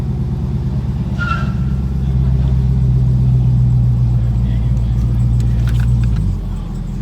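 A Dodge Demon's engine idles and rumbles steadily up close, swelling slightly in the middle before dropping back, with faint background voices.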